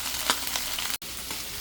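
Fennel seeds and onions sautéing in hot oil, a steady close sizzle with faint stirring scrapes, continuous apart from one brief cut.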